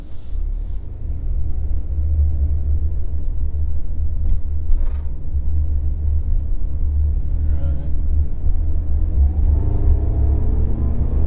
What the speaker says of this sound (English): It's got a turbo in it, so this baby's got she's got some takeoff.